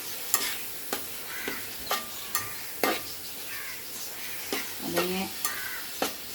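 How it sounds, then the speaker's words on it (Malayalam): Chopped tomatoes fry in a home kitchen pan, with a utensil knocking and scraping at irregular intervals over a low sizzle; the strokes are close and distinct, and a faint voice murmurs briefly in the background. "തക്കാളി നമുക്ക് സൈഡിലിട്ടൊന്ന് വഴറ്റാന്ന് എന്താ പറയുക."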